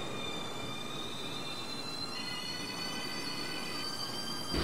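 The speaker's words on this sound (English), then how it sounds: "There is a local train approaching the station." Local train pulling into a station in a train video game, a steady rolling rumble with high metallic wheel squeal tones throughout, loud and continuous with no talk.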